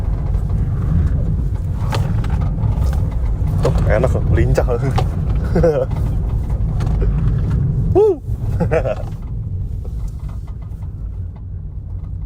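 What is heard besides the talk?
Toyota Agya GR car driving zigzag handling test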